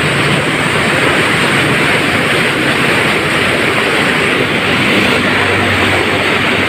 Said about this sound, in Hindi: ये आपको आवाज़ भी सुनाई दे रही होगी, कितनी मज़े की आवाज़ आ रही है पानी की।